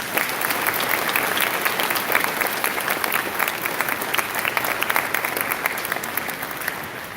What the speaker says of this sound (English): Let's all give her one more round of applause.